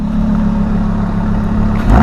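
A Lamborghini engine on a snowy street, revved hard and held as a steady, loud, deep roar for about two seconds, rising slightly at the very end.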